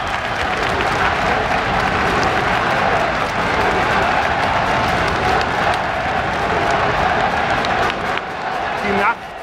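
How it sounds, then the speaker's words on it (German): Spectators in Vienna's Stadthalle applaud thunderously at an indoor Austria Wien versus Rapid Wien football match, a sustained wash of crowd clapping and cheering with a commentator speaking over it. "Stürmischer Applaus der Zuschauer hier in der Wiener Stadthalle."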